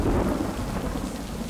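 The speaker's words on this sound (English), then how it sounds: "I couldn't hear you over the thunder" Deep thunder rumbles over a steady wash of heavy rain in a video game, loud and continuous throughout.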